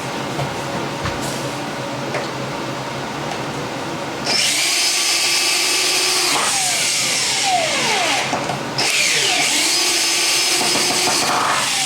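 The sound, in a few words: power drill tightening screws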